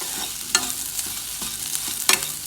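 Filling for banana leaf kozhukatta sautés in a pan with a little oil: a steady sizzle with sharp scrapes and taps from the stirring utensil at irregular moments, close and unaccompanied by voices.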